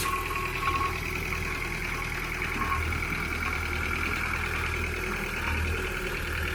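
Tractor engine labouring steadily while ploughing a steep, uneven, weedy field, a continuous loud diesel drone with a knocking rumble and no pauses throughout.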